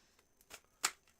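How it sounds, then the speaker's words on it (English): Tarot cards being shuffled, two quick crisp riffles close by at soft volume, each a brief papery burst against near silence. "Here are your 4 official shuffles."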